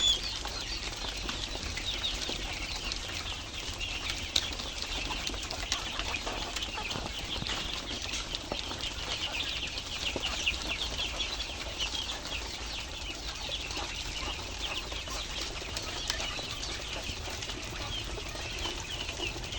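A flock of quail on a Bangladeshi farm flapping and chirping in an enclosure, a steady, dense rustle of wings with scattered bird calls throughout, fairly close and continuous with no talk.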